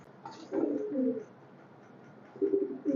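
Highflyer pigeons coo in two low, throaty bursts separated by a short pause, close by with no other sounds.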